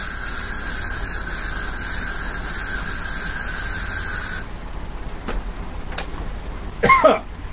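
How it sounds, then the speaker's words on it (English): An aerosol air freshener is sprayed around an apartment, giving a loud, close, continuous hiss for about four seconds. It then cuts off to a quieter room with a few soft clicks and a brief squeaky sound. "So I'm just spraying the apartment down. Air freshener there."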